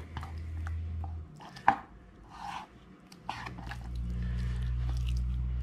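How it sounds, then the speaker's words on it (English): Knife cuts through a wild turkey breast on a cutting board, a few close, sharp slicing and chopping contacts spaced irregularly over a low steady background hum. "I'll take this piece, cut it in half"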